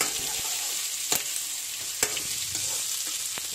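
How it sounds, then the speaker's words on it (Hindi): Chopped onion sizzles in hot oil with lightly roasted peanuts while Indori poha is made, a steady broadband frying hiss broken by a few sharp stirring clicks and scrapes, close and loud with no talk. "अब हम इसके अंदर कटा हुआ प्याज भी डाल देते हैं।"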